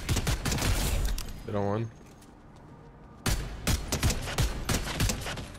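Bursts of rapid gunfire in a Fortnite match crack in close clusters at the start and again after a pause, interrupted by a brief tonal in-game sound, while a player talks over it.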